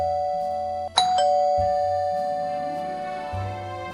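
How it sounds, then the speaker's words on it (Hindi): A doorbell rings once inside a home, a clear electronic chime tone that sustains and slowly fades over a steady low background. "डोरबेल बजती है"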